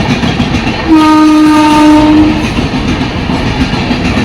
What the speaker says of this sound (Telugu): ఇంకో ట్రైన్ వెళ్తుంది